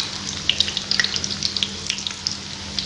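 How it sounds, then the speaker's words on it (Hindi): Potato fingers frying in hot oil, a dense, steady crackle with sharp spattering pops, close and fairly loud, with no talk. "बाकी भी इस तरीके से हम फ्राई करेंगे, बारी बारी सबकी साइड चेंज करेंगे"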